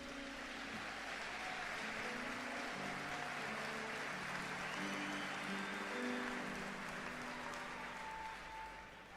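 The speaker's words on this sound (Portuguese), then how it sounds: "Dê um forte aplauso ao Messias, querido." A church congregation at a religious congress applauds, a faint, diffuse wash of clapping mixed with sustained music or hum tones in the room, lasting around nine seconds without speech.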